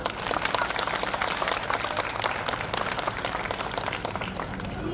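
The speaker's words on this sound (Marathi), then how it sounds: "पण टाळ्या वाजवा ना जरा" Audience at a school drama show applauds in a dense, steady wash of clapping that holds for several seconds, fairly distant and even in level.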